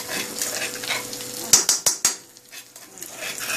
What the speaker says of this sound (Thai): แล้วเสร็จแล้วเราก็เจียวต่อไปเรื่อยๆค่ะ